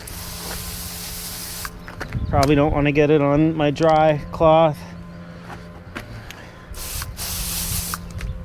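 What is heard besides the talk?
spraying Mud Guru cleaner onto a chamois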